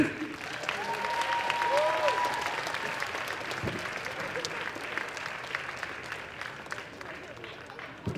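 Audience at a cosplay contest applauding a group on stage, a long, steady roar of clapping that swells early then gradually thins, with faint crowd voices beneath.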